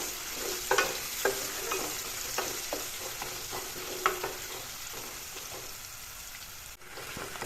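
Onions and garlic fry in a pan for a chicken curry, giving a close, steady sizzle with scattered pops and the scrape of stirring.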